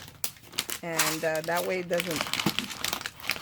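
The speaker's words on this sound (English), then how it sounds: "I just keep it in just a plastic bag" A plastic bag used to hold craft pegs for a fall lantern project crinkles in short bursts while someone talks over it.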